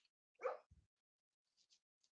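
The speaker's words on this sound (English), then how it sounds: "You can probably hear him barking." A sleeping dog gives a single soft, muffled bark while dreaming, followed by a few faint small yips, close by in an otherwise quiet room.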